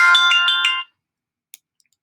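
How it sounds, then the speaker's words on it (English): A phone alarm ringtone plays a rapid bright tone pattern for under a second, then cuts off abruptly, leaving near silence broken by a tiny click. "that's my alarm."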